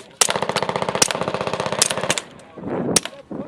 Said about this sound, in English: we're going to shut up and shoot